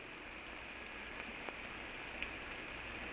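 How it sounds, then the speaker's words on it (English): Steady rain hisses softly on a surface, with a few faint drops standing out against the constant wash. "Rain beats in his face."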